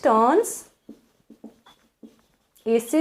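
Chalk or marker writing on a board during a science lesson on acids: a few short, quiet strokes and taps spaced apart, with a voice talking before and after.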